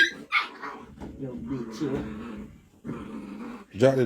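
A dog barks and yips in a few short bursts, near the start and again near the end, while people talk close by over most of it.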